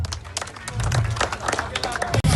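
Audience clapping and cheering close by, a busy crowd noise with scattered voices mixed in, fairly loud throughout.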